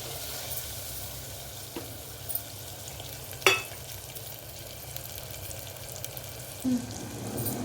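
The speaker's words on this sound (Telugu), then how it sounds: "టమాటా వేస్తున్నాం. టమాటా కాసేపు మగ్గనివ్వాలి." Chopped tomatoes frying with browned onions in a pan for a broad bean pulusu, giving a steady, even sizzle with a few faint utensil knocks and one sharper clink along the way; no voices.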